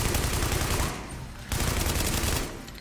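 Enemy gunfire in The Division video game, a rapid rattle of automatic shots in two loud bursts separated by a brief lull, no voices over it.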